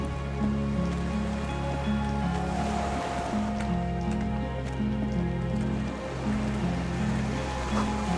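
Ocean waves in Disco Elysium, a steady rushing surf wash with a low droning hum underneath, continuous and moderately loud with no voices.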